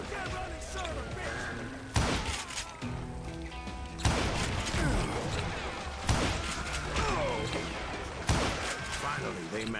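Gunfire in the Western shooter Call of Juarez Gunslinger: loud, close revolver and rifle shots sound every couple of seconds amid game effects, with a voice talking over parts of it.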